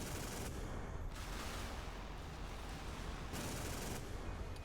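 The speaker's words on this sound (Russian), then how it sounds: "Личные пушки просто великолепно косят авиацию просто пачками." Warship guns in Modern Warships, the Missouri, firing at aircraft: dense continuous roar of rapid cannon fire with heavier surges, loud and unbroken throughout.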